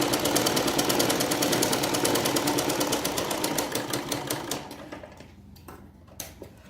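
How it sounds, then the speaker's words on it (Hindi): Sewing machine stitching salwar fabric, a rapid even rattle of needle strokes close by that slows and stops about two-thirds through, followed by a few faint clicks and handling noises. "देखिए सुई ऊपर उठा लिए, 1 इंच का हिस्सा छोड़ दिए, फिर वापस से स्टिचिंग कर।"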